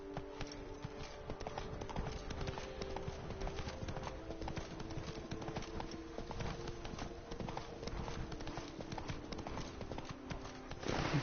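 Steady rhythmic hoofbeats of the horse Roach galloping in The Witcher 3, a fast continuous clip-clop under light game ambience, fairly faint throughout.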